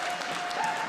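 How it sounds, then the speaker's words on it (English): Steady applause from the audience at a Conservative leadership debate, a brief continuous wash of clapping with no voices on top. "I'll allow the applause"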